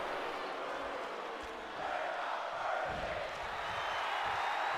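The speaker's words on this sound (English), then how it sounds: "This San Jose crowd chanting, "We're not worthy."" A San Jose arena crowd in a wrestling video game, a dense continuous roar of voices swelling slightly, chanting in unison behind the match.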